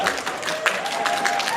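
A studio audience at an improv comedy show bursts into brief applause, a dense close spatter of clapping with a few louder claps that holds steady without fading out.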